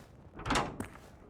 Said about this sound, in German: Na komm, geh auf. Du Tür, du.